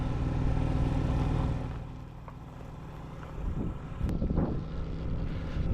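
Wind buffeting an outdoor microphone at an RC plane flying session, a loud rumbling gust that eases off midway and then surges again in rough bursts, with no talking.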